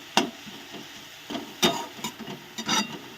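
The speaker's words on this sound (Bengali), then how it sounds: "এটাকে ভালো করে নাড়বো।" Jute leaves with turmeric and salt are stirred in a pan: a sequence of short, scraping strokes with soft sizzle in between, about half a dozen irregular bursts over a few seconds, fairly quiet and without voices.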